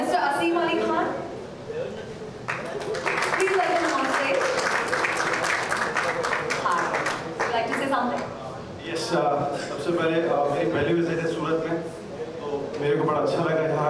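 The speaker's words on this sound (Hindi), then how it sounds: "एक बार जोरदार तालियां हो जाएगी." Applause at the Gocelebs app launch event: scattered rounds of crowd clapping that swell and fade beneath a louder voice speaking over it.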